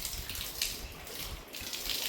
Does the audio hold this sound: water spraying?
yes